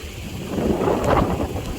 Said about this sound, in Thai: นี่ฝนเริ่มตกแล้วเนาะ